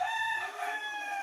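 A rooster crows once, close and loud, its harmonic call held steady for about a second.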